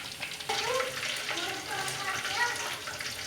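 Chicken leg pieces for Lahori chargha frying in hot oil give a steady, close crackling sizzle throughout, with a voice talking over it at times.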